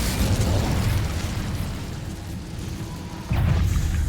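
The Incendio fire spell in Hogwarts Legacy, cast inside a cave: a sustained, roaring fiery rush with a fresh, louder burst near the end, no voices.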